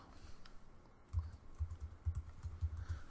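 Soft, quiet keystrokes on a computer keyboard tap out names in short irregular bursts, close and alone with no voices.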